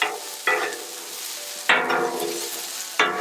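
Green beans and red peppers frying on a Blackstone griddle, a steady close sizzle punctuated by three scraping stirs with a spatula.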